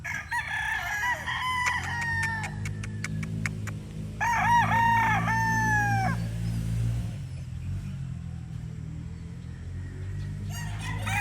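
A Raptor Sweater gamecock rooster crows several times in clear, loud, harmonic calls, set against steady low background rumble with some clucking and a faint bird chirp nearby.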